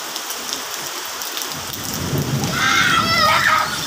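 Heavy rain during a thunderstorm, a constant hiss joined halfway through by a low rumble of thunder that swells and holds, with faint high voices on top.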